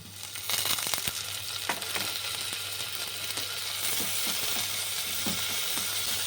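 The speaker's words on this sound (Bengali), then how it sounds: "এবারে এই যে আদা ধনে পাতা যে পেস্টটা করেছিলাম সেটা দিয়ে দিচ্ছি" Ginger and coriander leaf paste sizzles steadily in a pan with onions, a continuous frying hiss broken by occasional clicks of a spoon stirring.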